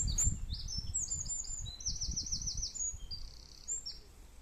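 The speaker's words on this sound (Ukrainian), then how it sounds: "Як заливається пташечка." A small bird sings near a woodland chapel, a run of bright, rapid trills and chirps repeating steadily, fairly close, with faint rustling below and no talk.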